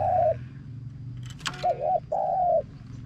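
A caged bird in a village calls with several drawn-out, clear whistled notes separated by short gaps, close and fairly loud over a low background hum with a brief rattle between calls.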